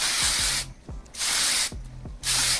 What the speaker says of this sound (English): and then just spray it this way too